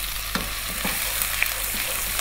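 Ginger garlic paste added to browned onions frying in oil for a mutton or lamb curry, a steady loud sizzle with a few soft stirring scrapes, close and continuous, no voices.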